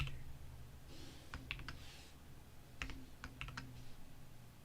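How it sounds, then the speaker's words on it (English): Quiet typing on a computer keyboard, with small clusters of crisp key clicks in two separate bursts over a low steady background hum, faint and close. "in parentheses I'm kind of typing out the previous day high"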